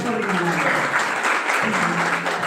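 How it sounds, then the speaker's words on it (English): An audience at a Teachers' Day school event applauds a teacher after her self-composed poem, a steady, even wash of clapping with faint tones and murmur underneath. "You have a huge round of applause for"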